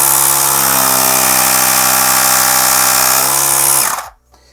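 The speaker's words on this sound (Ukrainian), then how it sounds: "доволі потужний потік повітря видає даний компресор" Parkcity C3106 portable car air compressor pumping air, a loud, close, steady buzzing motor drone with a strong hum that runs for about four seconds, then cuts off abruptly into near silence.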